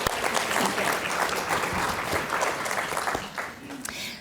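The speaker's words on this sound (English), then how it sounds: "Let's give them a round of applause." Sustained audience applause in a talk about kids and big emotions, a thick, steady wash of many hands clapping with faint crowd noise mixed in, holding at an even level for about four seconds.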